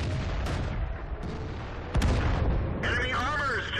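A Crusader SP self-propelled gun firing in World of Tanks on the Lakeville map, heavy booming shots with sharp transients amid rumbling engine noise, followed by a rising whine near the end.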